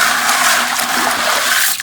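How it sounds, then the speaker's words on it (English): Aquarium gravel is churned by hand in a bucket of water, giving a loud, steady watery swishing and rushing up close for a couple of seconds. "mix it with your hand to get all that debris kind of wrestled around"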